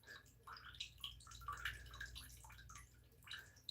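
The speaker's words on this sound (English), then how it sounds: "Apparently, even if I turn off both of the freaking nozzles, it'll keep like dripping" Water drips steadily into a bathtub from turned-off nozzles, soft irregular plinks and small splashes close by and quiet, with no talk.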